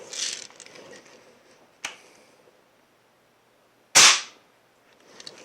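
A Crosman M4-177 multi-pump pellet gun fires two sharp, close cracks a couple of seconds apart, each snapping off quickly in an otherwise quiet room, with a smaller click at the start.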